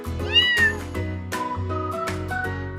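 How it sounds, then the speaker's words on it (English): A cat meows in a rising, wavering cry near the start, loud and close, followed by a steady musical backing with rhythmic beats. "cat,"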